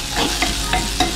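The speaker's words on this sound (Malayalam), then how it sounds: "ഈ ഉള്ളി നമുക്ക് നന്നായിട്ട് വഴറ്റിയെടുക്കണം." Onions sautéing with salt in a pan, stirred in a few scraping strokes over a steady close sizzle, with no talk.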